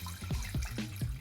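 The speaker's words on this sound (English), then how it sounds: "I'm just gonna pour a tiny bit of water" A small amount of water is poured into a cooking pot to make steam for hard-boiled eggs, a soft, short splashing trickle close by.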